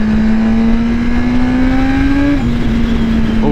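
BMW S1000RR motorcycle engine held at high RPM outdoors at Daytona Bike Week, giving a loud, steady whining drone that climbs slightly and then drops back. Heavy wind or crowd rumble runs underneath.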